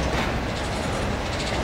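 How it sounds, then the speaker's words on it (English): A steady, dense rumble of a Norfolk Southern freight train rolling along rails, broadband and continuous with faint rhythmic texture, close by and without any voices. "And I don't understand why this train's stopping."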